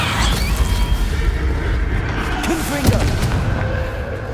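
Confringo and Bombarda blasting-spell explosions in Hogwarts Legacy: deep booming blasts roll over a dense, rumbling game background, with a brief sharper burst partway through.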